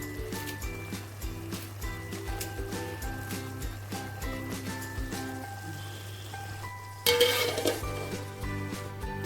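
Gongura prawn curry cooks in a pan over a medium flame, a steady close sizzle with scraping stirs and clinks from the utensil, then a louder burst of frying toward the end, no talk.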